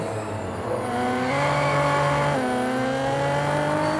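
Nissan Skyline GT-R V-Spec R34 with a twin-turbo engine racing in Real Racing 3, a loud continuous engine drone rising in pitch through gears, with a shift partway through.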